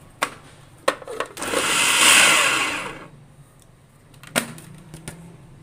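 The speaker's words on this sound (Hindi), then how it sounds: "अब मैं गोश्त को चॉपर में डाल दूँगी और चॉपर को 2 से 3 बार चला के फौरन बंद कर दूँगी ताकि गोश्त के रेशे बन जाए।" A food chopper shreds boiled beef: a single loud whirring burst of about two seconds, framed by sharp clicks and knocks of the lid and bowl before and after.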